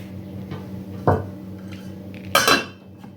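A bowl and a small plate are set on top of a pot of pork fat in marinade, giving two distinct ceramic clinks and clatters about a second apart, close and fairly loud over a faint background hum.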